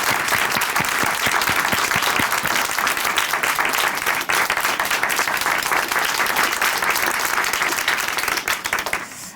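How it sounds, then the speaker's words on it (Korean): Sustained applause from a studio audience at a Christian testimony broadcast, dense and steady clapping at full loudness throughout, with no voices over it. "박수 부탁드릴게요."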